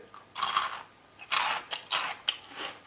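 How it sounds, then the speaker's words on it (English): Crisp, crunchy bites into a piped star-shaped fried snack, heard as five or six sharp, close crunches in uneven bursts with brief pauses between them and no talking. "So let's give it a little crunch."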